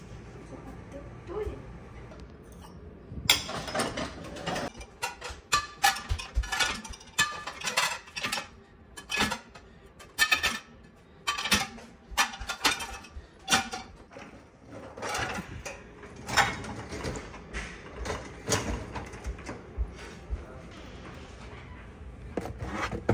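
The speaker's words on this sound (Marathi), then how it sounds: "तर ही फक्त भांडी ह्याच्यात लावायची" Pre-rinsed dishes are loaded into a home dishwasher, with repeated clinks of plates and cutlery, rack rattles and clatters at close range in an irregular rhythm, under intermittent household talk.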